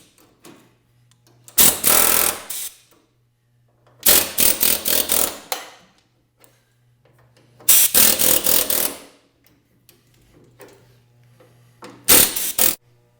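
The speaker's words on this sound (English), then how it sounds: "We're going to just use the air hammer." Pneumatic air hammer working on car body spot welds, firing in four loud bursts of rapid metallic hammering about a second long each, separated by quieter gaps with a low compressor hum.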